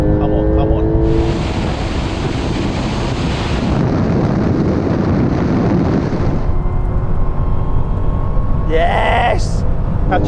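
A supercharged V8 Dodge Challenger Demon and a Porsche 911 Turbo S drag race. Loud engine roar blends into heavy wind rush, with excited voices talking throughout.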